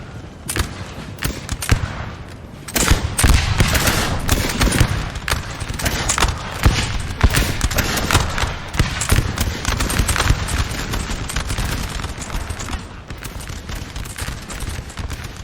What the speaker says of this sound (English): this cavalry is getting shot up